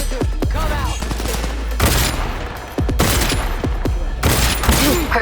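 Gunfire in the video game Cyberpunk 2077: loud bursts of rapid shots with booming impacts, arriving in several clustered volleys separated by brief gaps, close and dominant.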